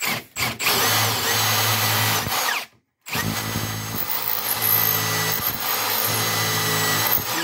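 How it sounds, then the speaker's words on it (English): A power drill bores steadily into wood while installing cabinet filler, loud and close, with a brief pause partway before the grinding resumes. "You don't want the drill to come out."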